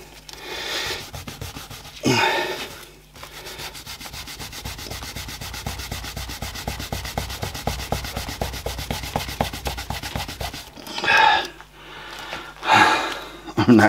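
Abrasive cloth scrubbing a circuit board wet with isopropyl alcohol, a steady rapid back-and-forth rubbing rasp lasting several seconds, close and fairly loud, with bursts of heavy breathing or talk-like noise at the start and end.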